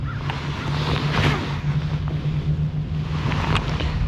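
Cold wind blows across Lake Guntersville during bass fishing in October, a steady rushing roar buffeting the microphone, with a low engine-like hum underneath and faint water movement, constant and close throughout.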